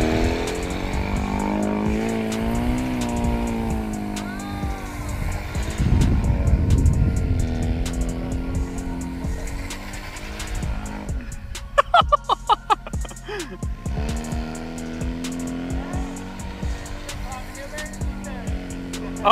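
Flying go-kart engine revving hard and continuously as the kart spins repeated 360s in reverse, a loud buzzing drone that rises and falls, with a burst of sharp rapid pops midway and people talking over it.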